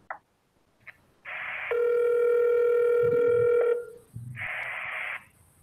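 Telephone call tones sounding over a board meeting's audio line, a few short beeps then a long steady ringing tone and another burst, faint murmur underneath.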